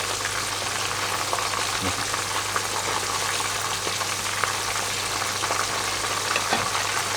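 Constant dense sizzling of pork-filled wontons deep-frying in oil in a small pan, with occasional scraping taps from frequent stirring.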